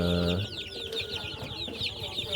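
Native chickens, mostly black birds with a few Rhode Island Reds, and their chicks cluck and peep in a steady, close chatter through the whole stretch, with soft scratching and movement around them.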